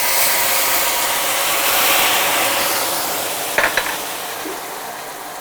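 Boiling water poured into hot butterscotch in a pan, a loud continuous sizzling bubble that slowly eases, with a couple of brief clinks of a utensil near the end.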